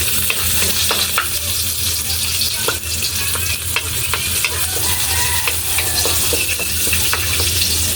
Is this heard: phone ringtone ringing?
no